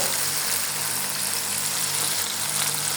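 Onion, garlic and dried chilli fry steadily in hot oil, a dense, even sizzle that holds close and constant throughout with no pauses.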